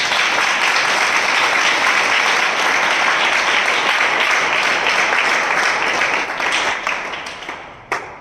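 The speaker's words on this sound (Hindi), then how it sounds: "हम जोरदार तालियों से उनका स्वागत करें।" Loud, sustained applause from a large spiritual passion assembly, dense clapping holding steady for several seconds before tapering off toward the end, with no voices over it.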